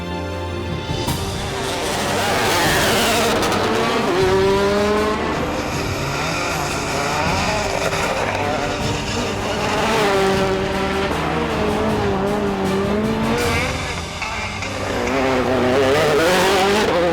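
Rally car racing flat out on a special stage, engine revving hard through repeated gear changes and rising, falling pitch sweeps, with occasional tire squeal, loud and continuous with no talk.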